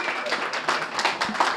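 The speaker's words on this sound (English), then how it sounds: "a round of applause for Menachem, who had this concept and brought it to reality" A small audience at a Chassidus in Color gathering claps in a brief round of applause, the close, rapid hand claps blending with murmuring voices.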